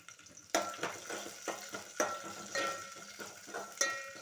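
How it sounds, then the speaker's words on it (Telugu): Onions and green chilies frying in a pan for bendakaya pulusu, a soft steady sizzle broken by repeated stirring scrapes and light clinks of a utensil against the pan, fairly close and with no voices. "తర్వాత ఆనియన్స్, పచ్చిమిర్చి వేసి కొద్దిసేపు వేయించుకోవాలి."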